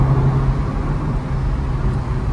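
A Ferrari Mondial t Coupe engine drones loudly from inside the cabin, a steady low rumble with road noise while driving.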